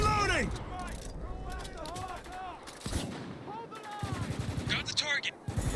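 Rapid automatic gunfire in Spec Ops: The Line on Fubar difficulty, loud bursts of shots with squad voices shouting over them at close range.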